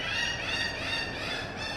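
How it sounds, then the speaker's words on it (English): Seagulls crying over a seaside setting, a busy overlapping chorus of calls rising and falling continuously, moderately loud against steady background noise. "The seagulls agree. They're serenading us."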